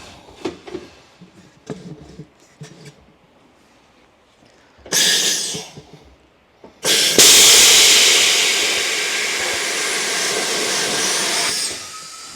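Compressed air blasting into a tire to seat its beads, a short loud burst and then a long steady roar of rushing air lasting several seconds, after quieter handling sounds.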